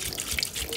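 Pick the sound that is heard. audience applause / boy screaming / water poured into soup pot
water poured into soup pot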